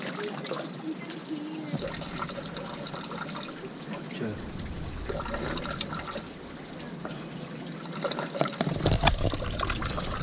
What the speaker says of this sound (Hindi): This water is coming from here and it's totally fresh glacier kind of water.